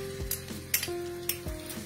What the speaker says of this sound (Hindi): अब ये जो पूरा 1 कप बथुआ है इसको मैं दूसरी एक कास्ट आयरन की कढ़ाई में छौंकने जा रही हूँ।